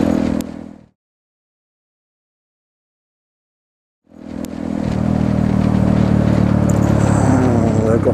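A Honda Grom MSX125 motorcycle engine, heard briefly at first, then silent for about three seconds before it returns and builds into a loud, steady, close engine drone.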